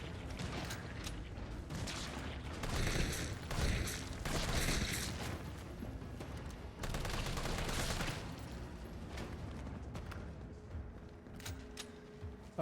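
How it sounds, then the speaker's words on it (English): Gunfire in the Resident Evil 3 Remake video game, with rapid bursts of shots and clicking mechanical weapon sounds in clusters over a steady game soundscape, and no voices. "I am missing all kinds of shots here."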